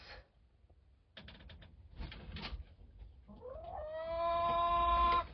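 Hens in a nesting box give scattered soft clucks that build into a louder, sustained drawn-out call near the end, close by and without talking.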